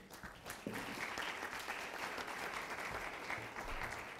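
An audience applauds a speaker, Dr. Edgar Romo García, introduced at a conference on electronic government; steady, dense clapping fills the room for about four seconds at moderate volume.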